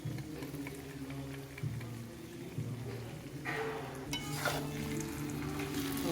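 Pigeon peas (tuvar beans) fry with sesame seeds in a pan for a lilva kachori filling. A steady close sizzle runs throughout, with soft scraping and stirring noises as the mixture is moved around.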